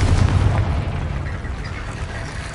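The Confringo explosive spell goes off in a Harry Potter video game, a heavy blast with a deep rumbling low end that fades into a lingering roar over a couple of seconds.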